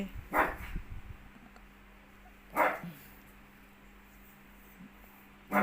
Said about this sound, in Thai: เห่าใครอีกนะ คนสวย